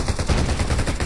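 Rapid gunfire in the shooter video game Undawn: a quick, steady string of punchy, close shots that fire in a fast rhythm throughout, with no talking over it.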